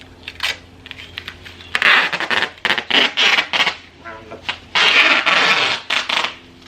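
Adhesive tape rips and crackles off the roll in bursts of loud, rasping tearing as it is wrapped around a plant pot, with short pauses between pulls.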